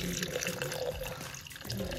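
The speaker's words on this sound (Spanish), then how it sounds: "Ahora vamos a agregarle el agua" Water poured carefully into a baby shower table centerpiece container holding a flower and a floating candle, a steady close liquid stream running throughout.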